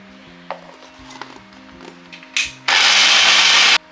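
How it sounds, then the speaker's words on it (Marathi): After a few light clicks and taps, a mixer grinder roars in one loud burst of about a second, blending boiled kokum peels for kokum saar, then stops sharply. "या साली आता आपण बारीक करून घेणार आहोत मिक्सरला।"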